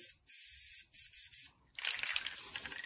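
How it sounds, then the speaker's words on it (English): Short hissing bursts of a spray paint can, three quick sprays separated by brief pauses, then a longer rougher spray with rattling. "Make sure you shake your can, pre-spray."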